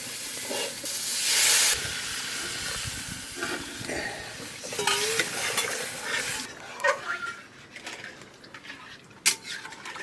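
Potatoes cooking in spice paste in a pan, with a steady sizzle and hiss, stirring scrapes and scattered clinks of utensils on the pot. A louder hiss comes near the start, then quieter bubbling frying continues.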